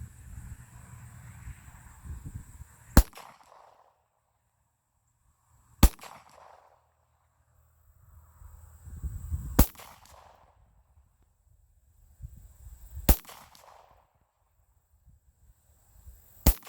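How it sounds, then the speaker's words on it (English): A 9mm Glock pistol fires five single shots at a 100-yard outdoor target, each a sharp, loud crack with a brief ring, spaced a few seconds apart, with faint shuffling and handling noise between them. "So I'll be firing a little slower."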